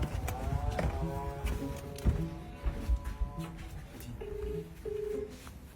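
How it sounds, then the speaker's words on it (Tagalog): A phone number is dialed, producing a series of short keypad tones over a busy background with other noises, just before a call is placed. "Eh, tawagan mo natin si Kuya Ronel"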